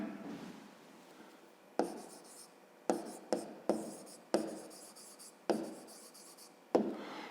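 A pen scratches out a fifth-grade maths solution by hand on paper, close and quiet, in a series of separate strokes that each start sharply and fade, with short pauses between them.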